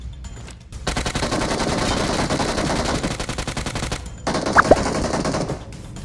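Sustained automatic gunfire rattles in PUBG Mobile, a dense rapid burst lasting several seconds, then a short pause and another loud volley with a couple of sharp ricochet-like pings.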